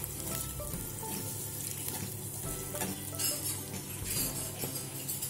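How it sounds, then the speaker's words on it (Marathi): Spice paste with salt sautéing in a clay pot over low heat, a steady close sizzle with occasional scrapes and clinks of a spoon against the pot. "हे वाटण मस्त आपण परतवून घ्यायचंय, लाल होईस तर थोडंसं परतवून घ्यायचंय"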